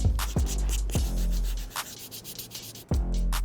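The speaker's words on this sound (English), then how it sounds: "Then I'm gonna finish it off with some 800 grit sandpaper before I do some taping." A worn white cement Jordan 4 sneaker being sanded with 800 grit sandpaper, several quick rasping strokes in an uneven rhythm, close up and clear, with no talking.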